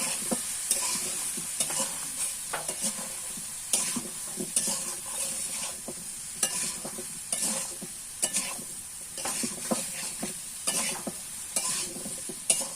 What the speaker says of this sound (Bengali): এই যে আমার এই হলুদ আর লবণ দিয়ে ভাজা হয়ে গেছে